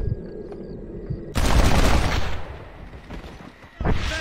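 A burst of overlapping gunfire erupts in the Red Dead Redemption western game, loud and dense for about a second before trailing off, with a faint voice and ambient sound before it and another shot near the end.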